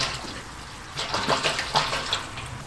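Tap water gushing and splashing while filling the cooling system of a V12 engine, a short close burst of running water with uneven surges.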